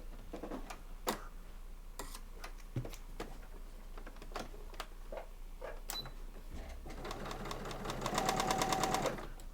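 A sewing machine stitches scrap fabric in short ticking bursts with pauses between, then a longer steady whirring run of rapid stitches toward the end, close and fairly quiet.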